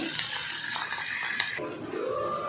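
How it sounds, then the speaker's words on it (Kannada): Onion, tomato and curry leaves fry in a pan, giving a soft, continuous sizzle with light stirring scrapes and occasional taps, moderately close and without talk. "ಈಗ ಈರುಳ್ಳಿ ಟೊಮೆಟೊ ಮತ್ತು ಕರಿಬೇವು ಮೂರೂ ಹಾಕ್ಕೊಂಡು ಕರೆಟ್ಕೊಳತ್ತೀನಿ ನೋಡಿರಿ ಇದು ಚೆಂದಾಗಿ ಫ್ರೈ ಆದಮೇಲೆ ಮಂಚಿ ಕಾಳು ಹಾಕ್ಕೋಬೇಕು ಈಗ ಫ್ರೈ ಆಗಲಿ"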